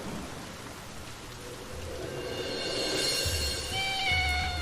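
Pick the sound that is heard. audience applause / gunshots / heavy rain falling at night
heavy rain falling at night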